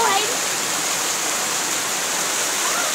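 A waterfall roars as a dense, steady wash of rushing water, loud and close, filling the whole stretch without a break; a voice may be faintly present at the very start.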